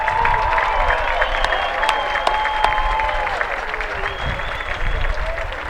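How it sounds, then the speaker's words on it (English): A stadium crowd at a Snow College football game against Phoenix CC gives a warm, sustained round of clapping for an honored alumnus, fairly loud and even throughout, with a faint ringing tone running through it. "Please again join me in a warm Badger round of applause for this distinguished alumnus."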